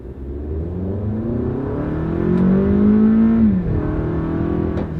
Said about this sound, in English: Now it's on sport, and here's how it accelerates.